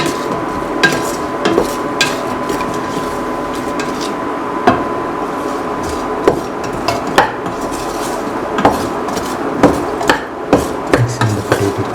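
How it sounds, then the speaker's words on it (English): Boiled potato pieces being mixed with onion, shallots, garlic and ginger in a metal pan, giving steady scraping and stirring with sharp utensil clinks at irregular intervals, close and fairly loud with no talking. "Mix the potato boiled pieces thoroughly with the rest of the mixture."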